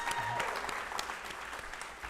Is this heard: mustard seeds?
no